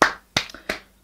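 Three sharp hand claps ring out, evenly spaced, with a softer tap between them and a fourth beginning at the end.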